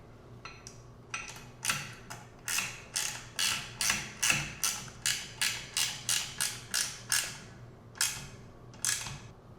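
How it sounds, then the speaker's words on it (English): A ratcheting wrench cranks down bolts on a bike fork, giving a steady series of about twenty sharp, close clicks in an even rhythm with brief pauses. "I'm going to go through with this side of the wrench and crank them all down."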